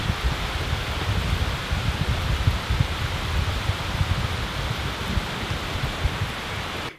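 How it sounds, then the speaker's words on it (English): Heavy rain pours down steadily in a broad, dense hiss with low patter, continuous and fairly close for the whole stretch, with no talk. "It's pouring rain now."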